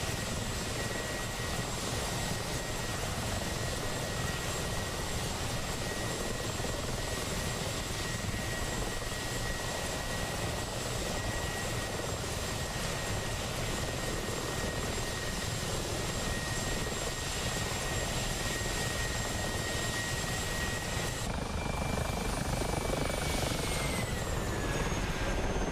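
A Mi-24 helicopter flies in a video game, its rotor and engine giving a dense, steady whirring roar throughout, with a high whine that drops in pitch near the end.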